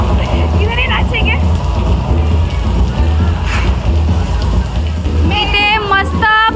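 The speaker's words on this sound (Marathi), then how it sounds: "मी इथे मस्त पाऊस पडतोय आणि पावसात पण डान्स करणार आहे" Heavy rain at a resort pours down in a dense, loud, continuous wash close by, while people talk and shout over it now and then.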